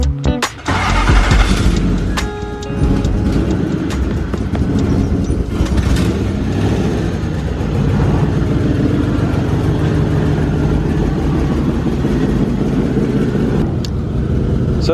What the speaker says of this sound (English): start it up so we can fill up the airbags.